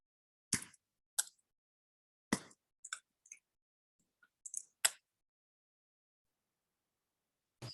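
Quiet computer keyboard typing in short, scattered bursts of clicks separated by silent pauses, close and faint.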